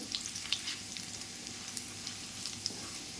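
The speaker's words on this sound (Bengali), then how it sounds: "মশলাটা ভালো করে ভেজে নেব" Dried chilies, chopped garlic and whole cumin fry in hot oil in a wok, giving a steady, fairly quiet sizzle with small crackling pops throughout.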